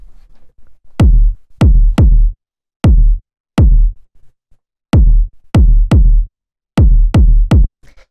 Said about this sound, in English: we have the kick, which sounds like this.